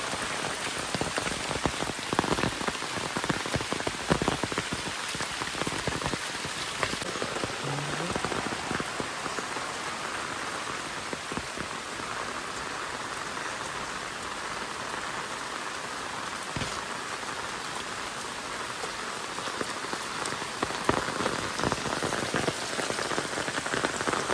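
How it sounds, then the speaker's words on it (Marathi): Steady downpour of heavy village rain, a thick constant hiss of drops striking surfaces with occasional sharper spatters, close by and uninterrupted for the whole stretch. "पाऊस खूप जोरदार आहे"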